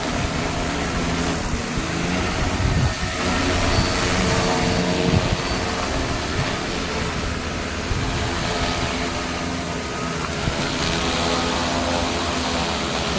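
A steady, loud mechanical drone of an agricultural spraying drone's buzzing rotors over farm fields hums continuously throughout, close by and unchanging in pitch.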